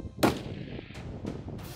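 One rifle shot rings out while hunting an aoudad ram in Texas, a sharp loud crack followed by rolling echoes that fade over the next second and a half across open country.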